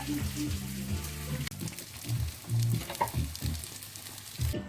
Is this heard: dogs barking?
no